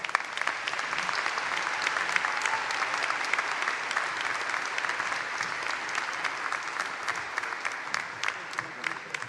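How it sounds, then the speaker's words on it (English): A large audience at a 2019 commencement ceremony claps steadily and continuously, a dense even wash of applause that holds at the same level throughout without fading. "Please join me in saluting his service with a well-deserved round of applause."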